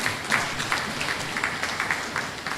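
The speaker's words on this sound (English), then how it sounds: "Give him a round of applause." A crowd at a political award ceremony in Mayaro, Trinidad and Tobago, claps for a Member of Parliament, giving a steady, moderately loud patter of many hands that carries on for several seconds.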